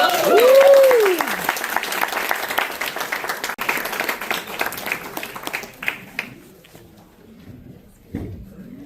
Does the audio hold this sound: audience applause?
yes